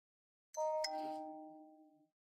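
A phone plays a news alert chime, two soft bell-like tones struck in quick succession, each ringing out and fading slowly in an otherwise quiet room.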